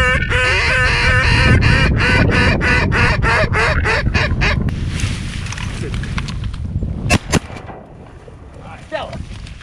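A handheld duck call used for duck hunting blows a loud, rapid run of about ten quacks close to the microphone, then goes quiet. A few sharp knocks and handling sounds follow.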